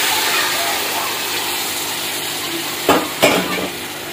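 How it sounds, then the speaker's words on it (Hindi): Sugar syrup poured into roasted semolina for halwa gives a steady close sizzle, followed near the end by two sharp bursts of spattering as more liquid hits the hot pan. "अब यहाँ पर ये शीरा हम इसके अंदर डाल देंगे।"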